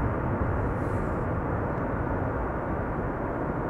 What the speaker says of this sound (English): Delta is using their reversers. You can clearly hear them.